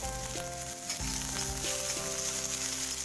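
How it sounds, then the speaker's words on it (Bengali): Onions and green chillies sizzle steadily in hot oil while a spoon stirs them now and then, a dense close frying hiss with light scraping, and no talk. "পেঁয়াজ আর কাঁচা লঙ্কাগুলো দিয়ে দেবো।"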